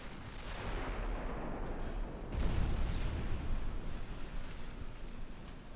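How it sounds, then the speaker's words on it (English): A heavy cruiser takes a torpedo hit in the naval battle game Ultimate Admiral Dreadnoughts: a deep boom swells about halfway through, over a steady roar of distant gunfire and battle noise. "We get a nice torpedo hit there on that heavy."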